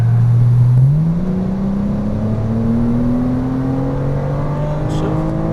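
A Porsche Cayman R engine on throttle, a loud, steady drone rising smoothly in pitch as the car accelerates, heard close from inside the car.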